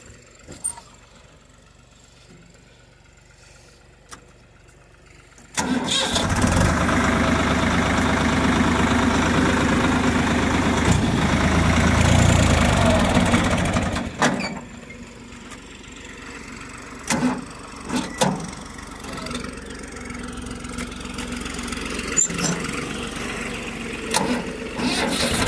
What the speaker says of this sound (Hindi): अब देखिए मैं इसको फोर व्हील ड्राइव में फिर से स्टार्ट करता हूँ